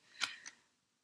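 Tarot cards being cut, two quick soft papery snaps about a quarter second apart, close and quiet in a still room.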